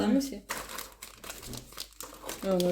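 Tea packets crinkle and rustle as they are handled while a cook prepares a quick chicken and mushroom gravy in a kitchen, the crisp crumpling close and steady beneath ongoing conversation.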